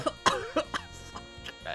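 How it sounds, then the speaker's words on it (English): A short run of several sharp coughs and throat clearing at close range, fairly faint, with no talking. "Yes, I'm coughing it up right now."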